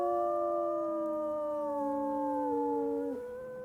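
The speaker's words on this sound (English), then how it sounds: "I love Pilot's howl as well." A single long wolf howl from the game WolfQuest, a clear sustained tone that holds steady, then dips and trails off at the end.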